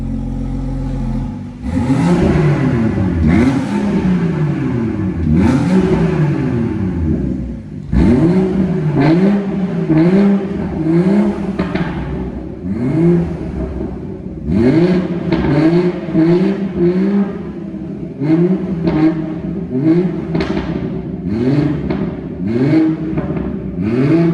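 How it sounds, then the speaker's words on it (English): A BMW 440i M Sport with the M Performance sound and power pack, 360 bhp, is revved repeatedly while parked, loud close engine blips rising and falling in quick bursts with a steady idle between them. "I'm just going to give it a little rev. And it sounds really nice."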